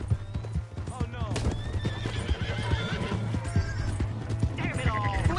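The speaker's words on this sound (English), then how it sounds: "Hey, that's my horse!" A horse neighs and whinnies loudly over steady clip-clopping hooves, with shouting voices and a background music score throughout.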